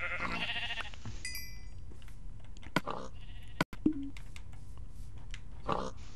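Sheep bleats from a Minecraft-style video game, several brief bleats scattered among clicks and other game sounds, moderately loud against a quiet background.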